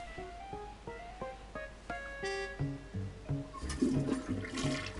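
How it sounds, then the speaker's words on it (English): A toilet flushes in the point-and-click adventure game Day of the Tentacle, a rushing swirl of water building near the end, following a run of plinking melodic tones, with no voices. "You really flushed them. Yes. Down the toilet."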